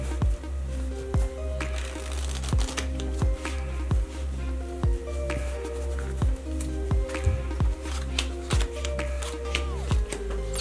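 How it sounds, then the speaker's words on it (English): A deck of playing cards is shuffled by hand in repeated quick riffles and taps at a regular pace, close up, over soft background music. "While I'm shuffling the cards"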